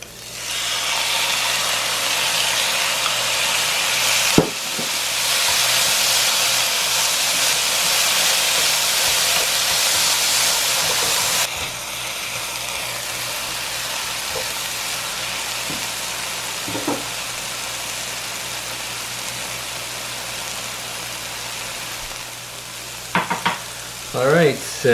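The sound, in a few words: kimchi sautéing in a pan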